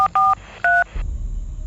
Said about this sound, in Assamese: অৰূপে নাম্বাৰটো ডায়েল কৰি ফোনটো কাণত ল'লে